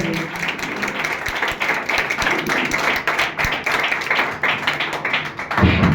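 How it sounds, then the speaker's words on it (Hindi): An audience claps loudly and steadily to welcome a teacher to the stage at a school farewell function, a dense, continuous burst of applause that tails off near the end. "जोरदार तालियां बजाकर इनका स्वागत करें"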